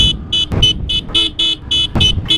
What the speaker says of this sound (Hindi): चलो यहाँ से लेके गोरचुक तक हॉर्न वाला इफेक्ट करते हैं